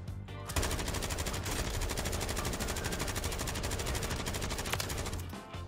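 Rapid, sustained automatic gunfire in the video game Rebirth Island, a dense, loud burst of shots that runs for several seconds and then stops.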